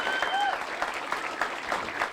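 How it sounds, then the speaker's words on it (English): A crowd applauding after a West Tipperary senior hurling championship final, steady clapping heard from a distance, with a short whistle-like tone near the start. "They deserve a wonderful round of applause."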